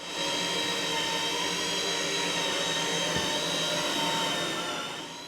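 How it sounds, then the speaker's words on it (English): A loud, steady high-pitched grinding whine runs without a break, a power tool cutting an inspection hole in a boat's metal fuel tank, with a single sharp knock partway through. "that is Alistair cutting a new inspection hole in the starboard tank."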